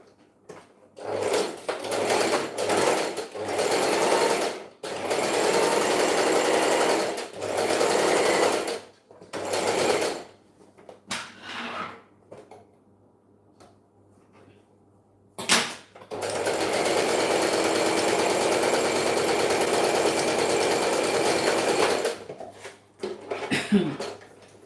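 A sewing machine stitches in long sustained bursts broken by short pauses, with a quieter stretch midway before another long continuous run; brief light handling noises fall between the runs.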